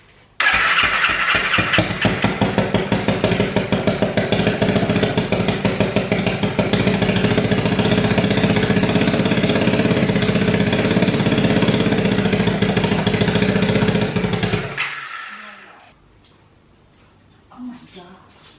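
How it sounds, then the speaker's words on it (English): A turbocharged Honda Grom motorcycle engine runs loudly and steadily for about fifteen seconds with a rough, rapid pulsing, then cuts off abruptly and falls to near silence. "The turbo is spinning, getting some oil in there."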